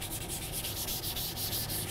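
Fine 600-grit sandpaper rubbed steadily over a measurement chamber of a lab water-potential meter, a continuous close scratchy hiss with faint rhythmic strokes and no talk.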